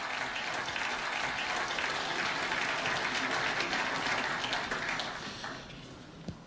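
Steady applause from a snooker crowd at a World Championship semi-final fills the clip, fading slightly toward the end.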